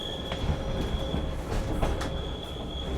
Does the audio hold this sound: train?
yes